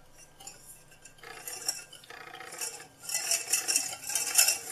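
A utensil stirs eggs, sugar, starch and a little vanillin together in a bowl for custard cream, making steady clinking and scraping that grows busier and louder toward the end, with no voices.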